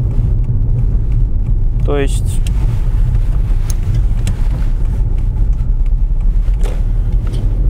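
A chipped Volkswagen Passat B5 drives on a road, its engine a steady loud low rumble heard from inside the car, with brief talk and a short chirping sound partway through.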